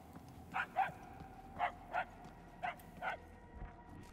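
A dog barks in Guardians of the Galaxy, giving six or seven sharp, moderately loud barks spaced in loose pairs, with no talking.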